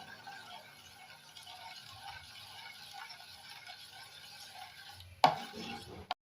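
Barley porridge being stirred steadily in a pot, a soft continuous scraping swirl at low level, ending with a couple of sharp clanks of the spoon against the rim.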